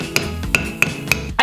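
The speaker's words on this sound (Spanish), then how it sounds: "colocamos la punta de las tijeras aquí en el canal y le damos unos golpecitos" The tip of a pair of scissors is tapped into the rim channel of a can to pierce a hole, giving four sharp, evenly spaced metallic taps and a fifth right at the end, close and clear, with no speech.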